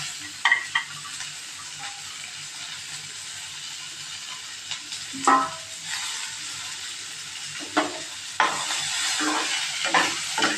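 Shredded cabbage sautéing in a pan with tamarind and browned urad dal for a Tamil-style chutney, a continuous soft sizzle broken by occasional scraping stirs of a spatula.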